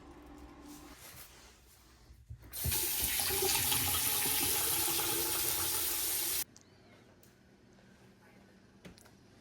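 A newly fixed toilet flushes in a house under renovation, releasing a loud, close rush of water that lasts about four seconds and stops abruptly. Quieter room noise comes before and after.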